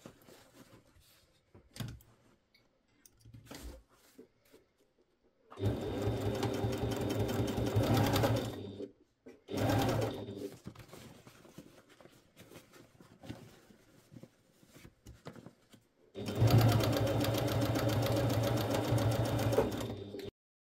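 A sewing machine stitches a fabric storage bag in several runs of fast, steady mechanical whirring and tapping, each lasting a few seconds, close and clear, with quiet handling noises in the pauses between.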